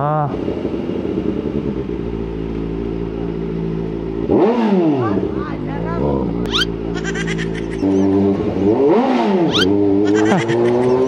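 Kawasaki ZX4RR sport motorcycle engine pulling hard in second gear, a loud, close high-pitched whine that climbs and dips in two surging revs, with wind rush and a voice talking over it.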